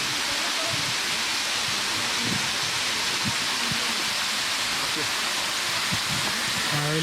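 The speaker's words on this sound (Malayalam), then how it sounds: "ഇതാണ് നമ്മുടെ മുകളിലുള്ള വെള്ളച്ചാട്ടം." Paloor Kotta waterfall near Perinthalmanna pours with a constant, even hiss of falling water, while faint low thuds and murmurs turn up now and then beneath the rush.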